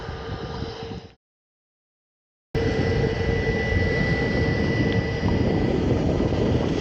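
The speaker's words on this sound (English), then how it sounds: "there's the Jet2 Neo on her way to Antalya this morning" A Jet2 Airbus A321neo jet departing Manchester Airport, heard from the runway visitor park as a loud, steady engine roar, briefly cut out, then resuming at full strength.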